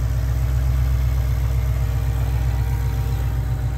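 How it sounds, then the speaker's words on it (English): A 2003 Ford Cobra V8 engine, warmed up, idles smoothly and steadily, its low, even rumble continuous and close throughout with no talking over it. "notice how smooth and nice the idle is right now"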